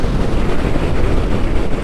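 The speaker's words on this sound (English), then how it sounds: "the loudest thing on this bike is the wind noise" Heavy wind noise buffets the microphone while riding a Zero FXE electric motorcycle, a loud, constant roar with no motor sound or talking over it.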